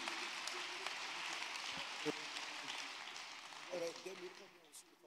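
A church congregation applauds at an evening service, a soft, distant wash of clapping with a few louder claps, while voices talk faintly over it.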